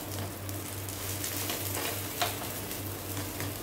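A besan chilla, a gram-flour pancake with vegetables, sizzles and fries steadily in a hot pan with ghee, with a constant close crackle, light scraping and a low hum underneath, and no talking.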